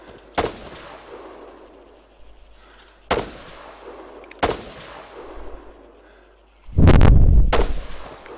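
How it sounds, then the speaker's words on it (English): Incoming gunfire in a video game: three sharp, loud single shots spaced a few seconds apart, each with a short ringing tail, then a heavier booming burst lasting over a second. "Shots inbound on my location."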